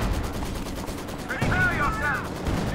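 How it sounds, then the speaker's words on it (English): Artillery barrage in Company of Heroes 2, a real-time strategy battle, rumbling as steady dense explosions under constant gunfire, with a brief whistling, warbling sound in the middle. "There's this barrage is coming in now, trying to clear off Michael from the fuel point."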